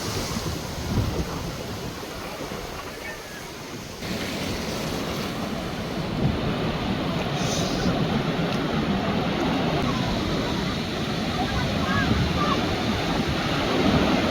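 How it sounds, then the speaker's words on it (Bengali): Big ocean waves break and roll at Cox's Bazar beach, a continuous loud wash of surf mixed with wind buffeting the microphone. "এই দেখেন বড় বড় ঢেউ আসতেছে, অনেক ঢেউ মারতেছে, অনেক বড় বড় ঢেউ।"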